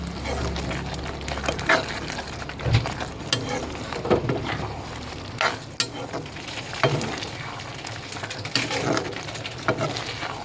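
Prawn thokku with masala powder stirred and fried in a pan, a steady busy sizzle with scraping spoon strokes and occasional clinks against the vessel, close and continuous with no talking.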